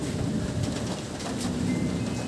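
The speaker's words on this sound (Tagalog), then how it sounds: "ang lakas ng hangin dito. Ayan, umuulan. Tumikidlat doon." Steady rain hisses and patters continuously with a low rumbling wash beneath, a dense, even downpour with faint distant thunder.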